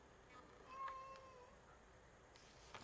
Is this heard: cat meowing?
yes